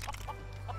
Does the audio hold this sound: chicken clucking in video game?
yes